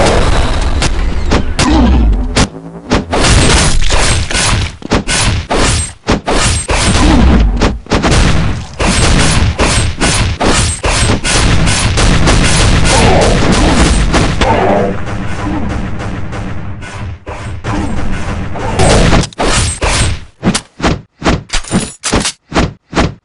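Grenade blasts and gunfire in Counter-Strike 1.6 zombie escape mode, a loud, dense barrage of booms and rapid shots with brief gaps, ending in a string of separate sharp reports.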